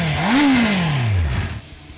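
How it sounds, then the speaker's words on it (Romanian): A Honda CB650R four-cylinder motorcycle with four exhaust pipes revs loudly and alone, its pitch rising in a quick blip and then falling smoothly as the engine winds down. "mulți vor rămâne în memorie cu sunetul celor patru eșapamente"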